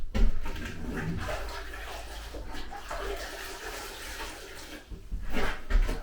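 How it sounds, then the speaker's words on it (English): A sponge rinsed and squeezed in a bucket of water while plastering, giving steady close splashing and trickling with a few louder sloshes near the end. "now just clean the sponge off"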